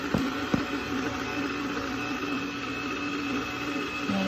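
A stand mixer churns pan de sal dough after milk has been added, a steady mechanical whir and drone throughout with a couple of faint knocks near the start, heard alone and fairly quietly.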